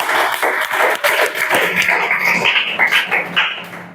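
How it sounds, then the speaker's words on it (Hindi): Students clapping in a classroom, a loud, dense burst of many hands that keeps going without a break and fills the room, with no talking over it. "देवेन के लिए जोरदार ताली बजाओ"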